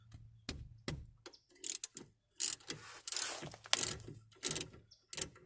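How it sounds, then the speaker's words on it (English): A ratchet with a 14 mm socket breaks loose the rear brake caliper bolts on a 2012–2014 Dodge Charger, giving close, loud bursts of clicking and clanking separated by short pauses. "Break these caliper bolts loose."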